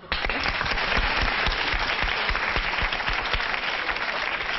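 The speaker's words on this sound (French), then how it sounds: "Ça mérite des applaudissements" An audience applauds steadily throughout, dense clapping at a constant level from start to finish.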